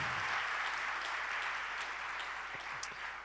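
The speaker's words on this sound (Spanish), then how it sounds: "dale un aplauso de gloria al Señor con todo tu corazón" A church congregation applauds in worship, a steady broad wash of many hands clapping that fills the room without a break, with faint murmurs of voices underneath.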